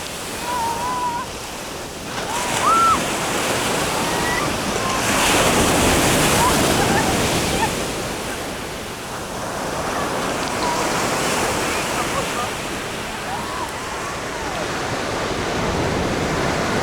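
Surf washes in at Faro Beach in the Algarve, a continuous broad roar of breaking waves that swells and ebbs, with wind buffeting the microphone and faint distant voices in the background.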